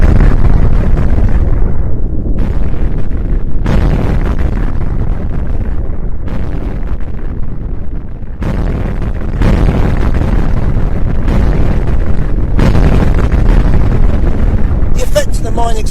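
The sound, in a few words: mine explosions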